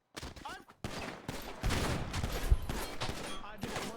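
A gunshot in GTA V roleplay on a NoPixel server, heard amid loud shouting and scuffling: several sharp cracks and thuds hit in quick succession under the excited voices.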